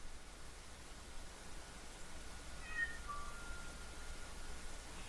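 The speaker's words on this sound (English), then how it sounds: "My cat's meowing." A house cat meowing faintly once or twice indoors, soft and brief against a steady background hiss, with no talking.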